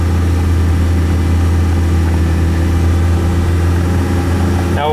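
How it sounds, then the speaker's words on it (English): A Suzuki Samurai engine fitted with a dual transfer case revs high and steady in low gear while barely creeping along, a loud continuous droning hum close to the microphone. "As you can see, the Samurai is just barely creeping along,"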